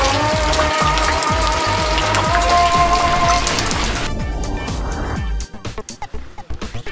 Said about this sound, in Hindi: ये खानसपुर में अभी बारिश आ गई है